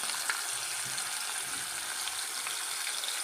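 Fish coated in chiroti rava and cornflour fries in a pan, giving a steady, dense sizzle and crackle of hot oil that is close and continuous and has no talking over it.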